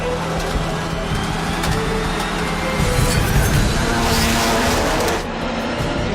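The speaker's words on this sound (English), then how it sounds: "Both Subarus launch clear of the pack" Two Subaru rally race cars launch hard from the start of a crowded race heat, engines roaring loud and close with rising revs and tire noise, partly under commentary.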